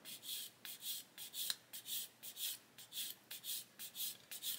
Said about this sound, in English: I'm just sanding that now